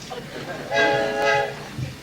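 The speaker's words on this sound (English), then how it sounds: "Hey, Albert, the train's leaving." A departing train sounds its horn in a long, bright, steady blast that swells up over background voices and rumble, then fades as the train pulls away.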